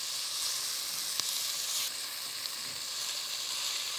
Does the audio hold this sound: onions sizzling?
yes